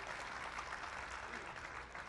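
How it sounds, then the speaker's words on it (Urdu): Audience at a seminar on discrimination in urban Sindh breaks into steady, dense applause, a sustained wash of clapping that fills the hall evenly without pause. "تو چرچل کی حمایت میں تالی بجی"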